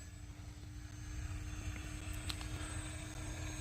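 A Fun Cub 1100mm RC airplane flies overhead, its small electric motor giving a steady, faint whine and drone that swells slightly midway, with wind and outdoor ambience around it.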